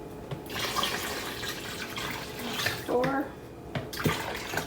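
Five cups of water poured into a homemade copycat Chick-fil-A lemonade mixture of squeezed lemon juice and sugar, a steady splashing pour running under a voice counting along.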